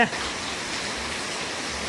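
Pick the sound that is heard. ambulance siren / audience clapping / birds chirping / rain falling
rain falling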